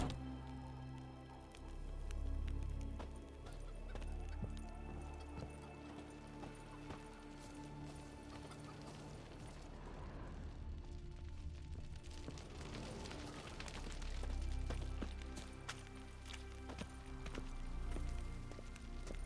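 Roach, a horse in The Witcher 3, gallops with a continuous, heavy rhythmic hoof drumming inside a dense, loud game soundscape, with louder low thuds swelling at a few points.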